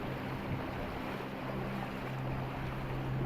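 A rain-swollen mountain stream in the Scottish highlands rushing steadily around someone wading through it, a constant dense roar of water heard close up, with no voices.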